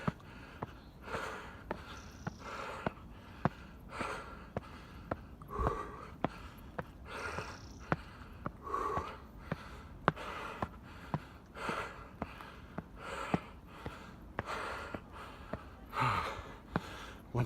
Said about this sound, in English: I just have to breathe.